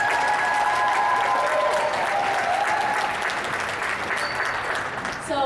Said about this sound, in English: Let's give our dance team one more round of applause.